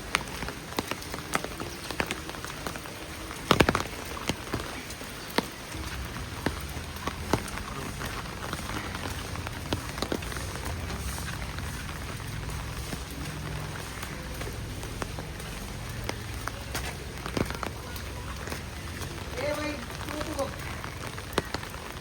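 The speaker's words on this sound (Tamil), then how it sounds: "மழை பெஞ்சிக்கிட்டே இருக்குங்க. ஒரு வாரமாக பெய்யுது." Heavy monsoon rain falls steadily in Mumbai during flooding, a dense patter broken by occasional louder drops close by, with no talking.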